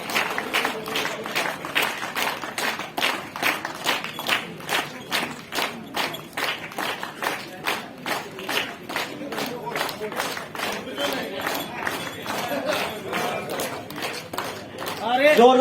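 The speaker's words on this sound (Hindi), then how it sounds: "जोरदार तालियां।" A crowd at a men's volleyball tournament prize ceremony claps in a steady, unison rhythm. The close, sharp claps repeat continuously, with talk mixed in throughout.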